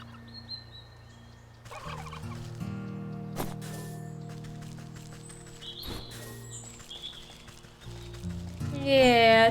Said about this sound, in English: Oh, there's turkeys in the top left corner too.